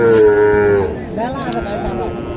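A Sahiwal bull calf gives a drawn-out moo close by, its pitch sliding down, followed by softer bleating sounds.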